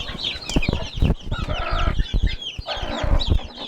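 A Sussex hen clucks repeatedly up close, short throaty calls tumbling over one another, with some scuffling and rustling in between.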